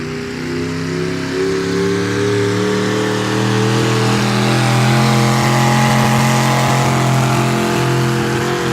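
A pulling tractor's engine roars at a tractor pull, a loud sustained revving drone that climbs and holds steady for several seconds with no talk over it.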